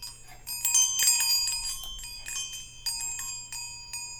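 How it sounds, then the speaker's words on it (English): Several bells ring in an irregular, overlapping sequence of bright metallic strikes, each with a lingering ring, over a faint low hum; no talking. "I hear bells"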